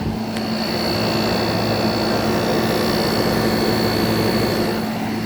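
An SPT 12,000 BTU air conditioner running and blowing cold air, giving a loud, steady fan whoosh with a constant low hum and a faint high whine that holds unchanged throughout.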